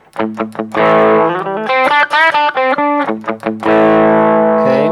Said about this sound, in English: Let's check out what the clean channel does with the pedal.